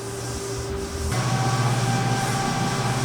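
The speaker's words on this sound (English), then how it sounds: "So this is what the incline motor sounds like. It's not overly loud, but it does make a little bit of noise." A NordicTrack x11i incline trainer's treadmill motor hums steadily, its whine stepping up in pitch and level partway through as the speed increases, a close mechanical drone with no talking.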